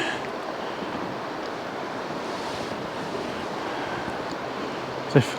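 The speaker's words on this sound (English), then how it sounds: "The bank of the Cowlitz River." The Cowlitz River flows steadily at the riverbank, a broad continuous wash of water with wind buffeting the microphone and one sharp knock near the end.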